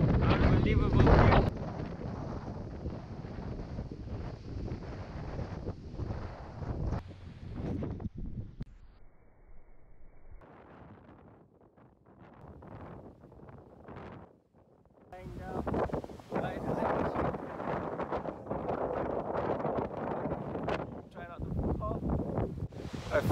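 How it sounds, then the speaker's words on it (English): Strong coastal wind gusts at the Watsons Bay lighthouse in Sydney, buffeting the microphone in loud bursts that drop away briefly mid-way before returning hard. "It's very windy and nice."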